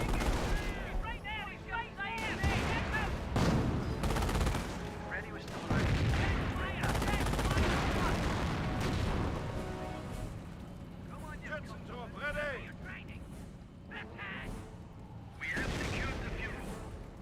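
Artillery barrage and gunfire from a Company of Heroes battle crackle through as repeated bursts and booms, dense and irregular, mixed with battlefield chatter and talking voices over the top.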